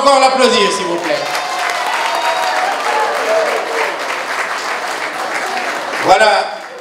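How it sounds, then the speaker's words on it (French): Audience applause at a 50th birthday party, right after a birthday song: steady, dense clapping from a roomful of people throughout, with voices heard over it at the start and end. "On peut encore l'applaudir,"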